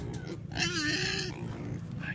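Pot-bellied pigs on a family farm grunt and snort close by, short rough bursts under someone speaking in a casual, steady voice.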